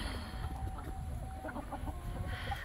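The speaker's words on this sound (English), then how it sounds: "So is Squirty still the friendliest chicken ever?" Young chickens, pullets, cluck softly in their coop: repeated short murmuring clucks at close range, steady and low over a background hum.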